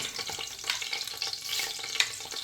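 Dried red chilies, bay leaf, cloves, black cardamom, cumin and fresh curry leaves crackle in hot oil for a tadka, a busy close sizzle with sharp pops and a few stirring scrapes.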